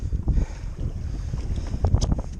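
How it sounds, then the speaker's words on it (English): Wind gusting across open water near a kayak off Seward, Alaska, a steady rough buffeting on the microphone with soft splashes and hull knocks, close and fairly loud, no talking. "And the wind is kicked up."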